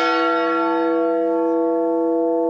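A single deep strike of a giant church bell used as a spooky horror soundtrack effect, loud and rich with many harmonic overtones, ringing out in a long sustained decay.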